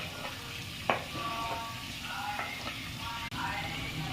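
Tomatoes frying and being stirred in a pan for chicken curry, a steady close sizzle with occasional spatula scrapes and clinks, no talking.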